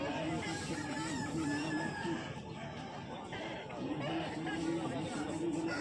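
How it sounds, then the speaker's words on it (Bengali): A large two-year-old Aseel rooster of about four kilograms, at a village market, crows amid busy crowd chatter and other poultry calls, the crow partly buried in the noisy background. "বড় সাইজের মোরগ"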